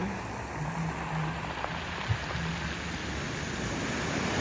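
Ocean waves washing onto a stony shore on a sunny morning, a continuous broadband wash of surf with small soft knocks, fairly close and steady without talk.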